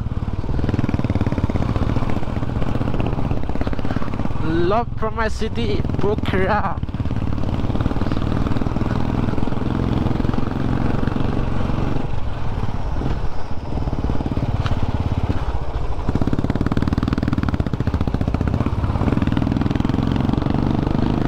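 A motorcycle engine labours steadily uphill on a morning ride to Kakani, a continuous close drone with wind rush, while a rider talks over it throughout.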